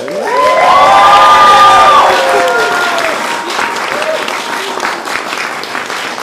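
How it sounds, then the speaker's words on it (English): Applause and cheering from a theatre audience at a new-works festival for the playwright and director, loud and sustained with whoops and shouts rising over steady clapping before tapering off. "Everyone give a round of applause to them."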